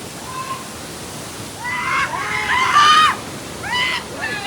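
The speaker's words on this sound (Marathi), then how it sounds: "गाईज अशा प्रकारे धबधबा आलेला आहे सो ही." Waterfall at Kelavali near Satara during heavy monsoon rain, a steady broad rush of falling water with surging swells, heard close with some tonal chirps layered over it.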